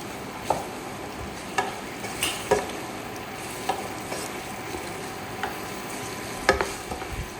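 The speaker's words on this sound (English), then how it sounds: "we're going to just toss it together so that the sauce can just coat" Lobster tossed in pepper sauce in a pan, with a soft steady sizzle broken by irregular clinks and scrapes from stirring, close by and fairly quiet.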